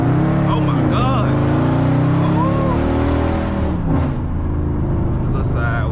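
A 500 hp Dodge Charger R/T engine roars loud and close as it accelerates, its pitch climbing and shifting between gears, while people talk and shout over it.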